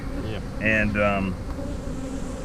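Steady buzzing of honey bees at an open hive full of freshly hatched workers, a close continuous drone while someone speaks briefly over it.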